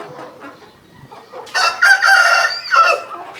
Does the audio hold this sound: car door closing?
no